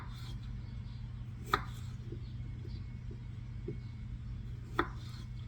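A knife quarters new potatoes on a wooden cutting board, giving two distinct sharp chops with a few faint taps between them over a low steady background hum, close and fairly quiet.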